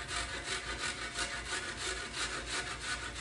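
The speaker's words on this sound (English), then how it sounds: "Then we're going to just grate in some onion." An onion being grated fine for meatloaf makes rhythmic, scraping strokes against a grater, about ten quick rasping passes in a steady back-and-forth pattern, close by and fairly quiet, with no voices.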